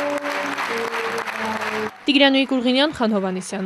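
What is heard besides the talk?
standing ovation applause at a theatre premiere in Gyumri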